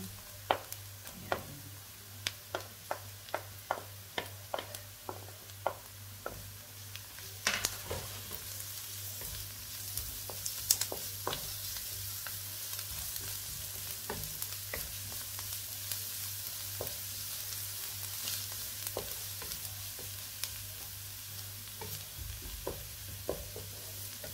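Garlic fries in a pan for vegetable spring rolls with shrimp, a quiet continuous sizzle with frequent sharp pops and crackles, busier in the first half, under a low steady hum.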